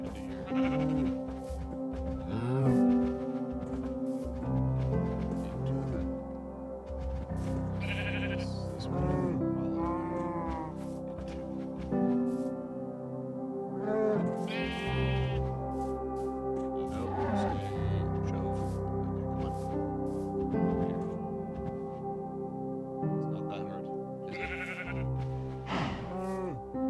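Sheep bleats and cow moos from livestock in Minecraft rise repeatedly over a steady game music bed, the animal calls scattered and fairly close throughout, with no talk heard.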